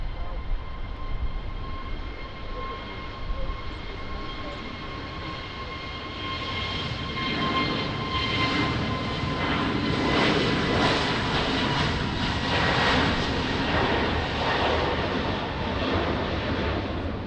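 Airliner jet engines spooling up for takeoff on runway 20 at Lisbon Airport in rain, a broad roar that swells from a steady rumble to a loud, sustained peak before holding at a high level.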